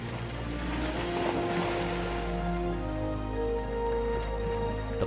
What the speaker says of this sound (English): the wind picks up and waves start to form.